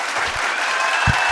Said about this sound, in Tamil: மீண்டும் ஒரு முறை ஷீலாமாக்கு ஒரு கைத்தட்டல் கொடுத்துடலாம்